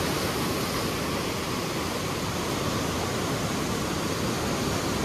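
Heavy water rushing through the opened gates of the Koshi Barrage on the Koshi river during high water, a steady, dense roar with no break, loud and close and alone without voices.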